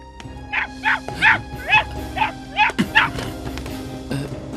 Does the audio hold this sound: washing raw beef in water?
no